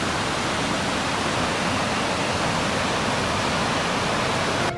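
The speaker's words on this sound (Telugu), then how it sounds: "ఆ గోడ అవతల నుంచి నదిగా ప్రవహిస్తుంది, చూపిస్తా చూడండి" A river in Manali flowing out of sight beyond a wall gives a constant, dense rushing hiss that stays level and unbroken throughout, with no voices over it.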